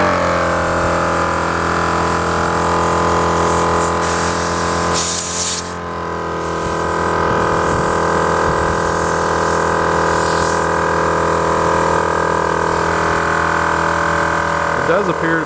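Desert Armor air compressor, sitting unused for several months, running with a loud, steady motor hum and a continuous airy hiss for the whole stretch, with a brief dip partway through.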